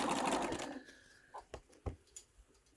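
A Bernina sewing machine stitching a quilt seam, a fast buzzing run of stitches at the start that fades within a second, followed by a few isolated soft clicks and taps at a low level.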